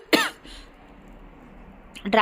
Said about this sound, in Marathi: कफ झालाय ग सर्दी पण खूप आहे